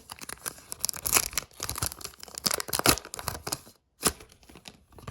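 A packet of collectible cards is torn open, with crisp tearing and crinkling of the foil wrapper in quick bursts, close and loud, and a short pause near the end before a final rip.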